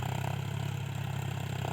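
A John Deere 45 HP tractor pulling a five-bottom plough through a field, its diesel engine chugging in a steady, fast, even pulse, close and continuous.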